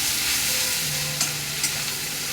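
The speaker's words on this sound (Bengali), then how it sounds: "পেঁয়াজ বাটাটা একটু লালচে লালচে হয়ে যাবে, তো আমি কষে নিই, পেঁয়াজটা একটু ভাজা ভাজা করে নিই" Onion paste fries in a pan and is stirred, making a loud, steady close-up sizzle with a few soft spatula scrapes and light pops on top.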